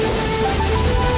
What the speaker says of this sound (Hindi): बादल गरजने लगते हैं और तेज बारिश हो जाती है।